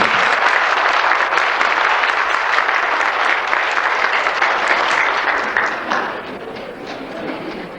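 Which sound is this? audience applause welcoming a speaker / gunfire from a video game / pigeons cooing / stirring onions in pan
audience applause welcoming a speaker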